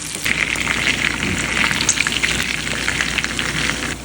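Meatballs frying in oil in a pan give a loud, dense, steady crackle and sizzle that stays close and even throughout, with no voices over it.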